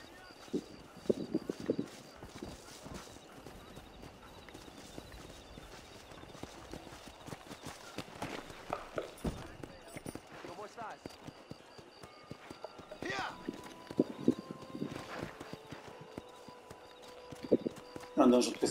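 Horse hooves clip-clop at a steady walking pace in Red Dead Redemption on PlayStation 5, fairly close, while someone talks over them intermittently.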